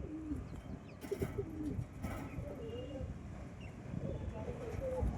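Pigeons kept for sale coo softly in a quiet loft, low repeated throaty calls mixed with rustling, with faint voices talking in the background.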